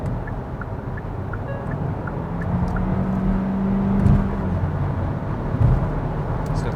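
Heard from inside the cabin, the 1.6-liter turbo engine of a 2021 Hyundai Tucson compact SUV revs with a low, steady drone that swells during a pull, over a constant road and wind rush.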